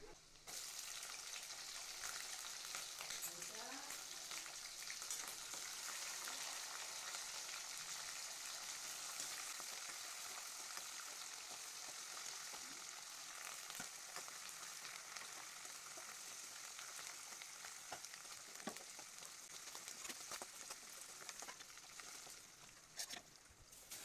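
Steady crackling sizzle of tempering spices frying in hot oil for pulihora, continuous and close, with occasional faint clinks and no talking.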